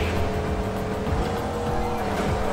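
Ford Mustang GT driving in the racing game Midnight Club: Los Angeles, a steady loud engine drone with tire noise running continuously throughout, no talking.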